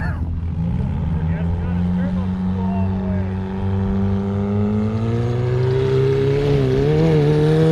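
Chevrolet Cobalt revving hard at an off-road Gambler 500 event by a lake, its engine note rising steadily toward the end, loud and fairly close, with people talking over it.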